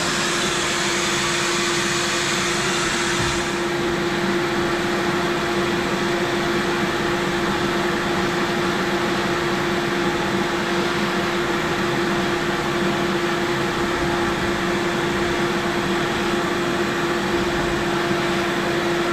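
A vacuum cleaner runs continuously over a dusty area inside a vehicle, giving a steady, loud whine with a constant pitch, alone and without talk.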